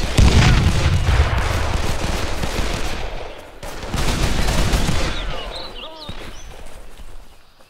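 Grenade blast and rapid automatic gunfire in a firefight from Call of Juarez: The Cartel, loud dense bursts for several seconds with a second swell of shooting midway, shouted voices mixed in.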